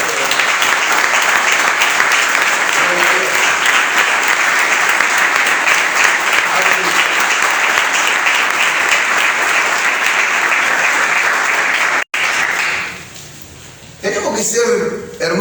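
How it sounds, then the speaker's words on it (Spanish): Audience applause filling a church service hall, loud and sustained for about twelve seconds before cutting off, followed by a brief quieter stretch with a voice speaking. "un aplauso para ustedes"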